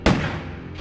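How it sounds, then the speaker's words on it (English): A single gunshot from the Silent Hill PS1 game: one sharp, loud crack that decays quickly into a short reverberant tail. "so it was gunshots I was hearing"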